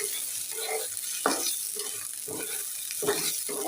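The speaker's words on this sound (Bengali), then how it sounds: "এই যে দেখো হচ্ছে পোলা চাউলটা সুন্দর করে ভেজে নিচ্ছি" Fragrant rice sizzles in a pan with onion, cardamom and cinnamon, a soft steady frying hiss broken by repeated scraping stirs of a spatula at close range.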